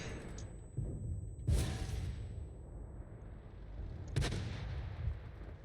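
Two heavy booming blasts several seconds apart in a tank video game, the tank's ammo rack detonating, each a sharp concussive hit with a rumbling tail over low engine drone.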